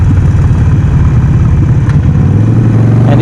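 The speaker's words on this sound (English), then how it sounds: "So this is a 1200cc engine, V-twin, that gives a very unique sound" A loud, close Harley-Davidson Sportster 48 engine, a 1200cc air-cooled V-twin, idles with a deep, lumpy, uneven rumble throughout.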